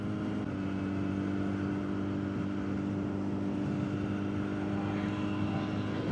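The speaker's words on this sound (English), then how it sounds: "Plane." Airplane passing overhead near an airport, a steady droning roar with tonal engine hum that stays loud and even throughout, heard over road and motorcycle riding noise.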